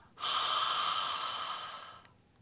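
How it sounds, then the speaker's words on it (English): A single long ujjayi ocean breath drawn through a tightened throat, a steady airy hiss that swells, holds for nearly two seconds, then fades, close and alone without talk. "And the back of the throat is a little tighter as the mouth is open. So let's try it again. Breathe in. Exhale."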